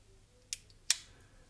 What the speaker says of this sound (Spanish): Aquí tendríamos las tijeras